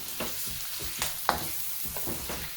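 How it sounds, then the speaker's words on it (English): Capsicum chicken cooks uncovered in a karahi over a low-to-medium gas flame, giving a soft sizzle broken by several stirring scrapes and one sharp clink of a utensil, heard up close. "So we have to cook this one low to medium gas"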